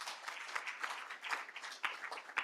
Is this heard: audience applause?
yes